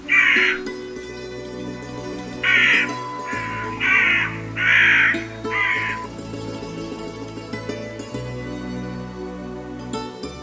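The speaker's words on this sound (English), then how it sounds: "Birds, confused by the sudden darkness during daytime, start flying randomly." Crows cawing during a solar eclipse as daylight fades, several loud harsh caws in separate bursts over a low steady background hum.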